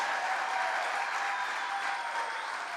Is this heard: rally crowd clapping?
yes